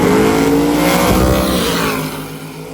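Fastback Mustang at drag week roaring hard down the drag strip, a loud sustained engine howl that rises in pitch and then fades slightly as it pulls away.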